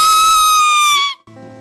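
A woman lets out one long, loud, sustained high-pitched scream during a church deliverance service, holding steady for about a second before cutting off abruptly, followed by quieter room sound.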